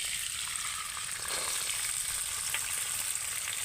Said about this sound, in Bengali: ওই একই তেলের মধ্যে আমি ফোড়নে দিয়ে দেব একটা তেজপাতা আর গোটা গরম মশলা।